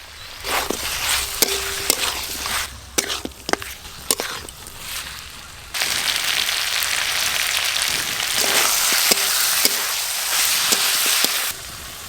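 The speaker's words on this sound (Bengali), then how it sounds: "একসঙ্গে পেঁয়াজ আদা রসুন ভালো করে ভাজা ভাজা হয়ে গেছে।" Chopped onion, ginger and garlic fry in a pan, a steady hiss of sizzling broken by sharp scraping and stirring clicks, and the sizzle swells louder and denser halfway through, with no talk.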